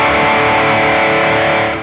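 A 1975 Gibson Les Paul Deluxe with a Rocket Red sparkle top, played through its bright bridge pickup with distortion, rings out one loud sustained chord that fades slightly at the end, with no talking.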